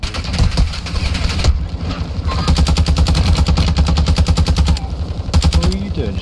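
Automatic gunfire in Call of Duty Warzone 2, likely a Kastov 74U, comes as rapid, loud, close bursts of rifle fire separated by short pauses.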